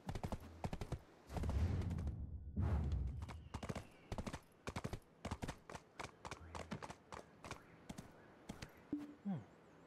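Rapid clip-clopping horse hooves in Black Desert, steady trotting rhythm up close, with brief bursts of people talking over it and a horse snort near the end.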